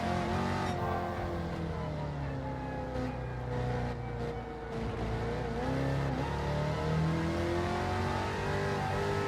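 A super modified race car in the iRacing sim game, with four-into-one open headers, drones and revs steadily throughout, a continuous loud engine note shifting pitch as it accelerates.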